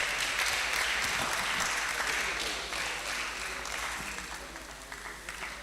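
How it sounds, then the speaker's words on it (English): An audience at a security workshop breaks into sustained applause, dense and close, slowly thinning toward the end. "A round of applause for him."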